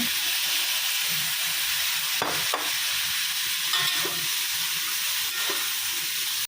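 Prawns stir-fried with oyster mushrooms and broccoli in a hot pan, a steady loud sizzle with several sharp scraping stirs of a utensil and no talk.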